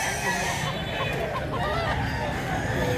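A young stag gamecock clucks softly among other fowl nearby, with low background noise and faint voices around.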